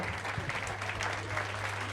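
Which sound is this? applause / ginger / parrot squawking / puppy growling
applause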